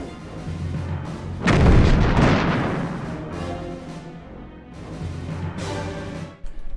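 Torpedoes firing in the space game Star Trek: Bridge Commander, a heavy booming launch that swells into a long roaring rumble and fades, followed by a second softer surge of rushing noise, with no talking.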